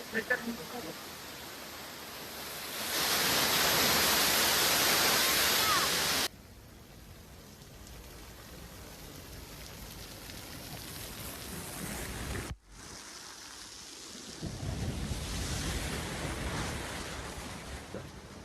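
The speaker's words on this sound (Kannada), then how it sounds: "ಇಲ್ಲಿವರೆಗೂ ತುಂಬಾ ವಾಟರ್ ಫಾಲ್ಸ್ ನೋಡಿದ್ವಿ, ಆದ್ರೆ ಇದು ಸ್ವಲ್ಪ ಜೋರಾಗಿ ಬೀಳ್ತಾ ಇದೆ ನೋಡಿ." Loud rushing waterfall on the Kedarnath trek, a dense roaring wash of water that swells and drops in level as the view shifts, with someone speaking over parts of it.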